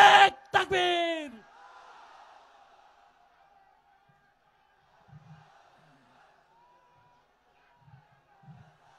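At a Jamaat party workers' rally in Kushtia, a large crowd chants a loud roaring takbir slogan that cuts off after about a second, followed by quiet hall ambience with faint noises.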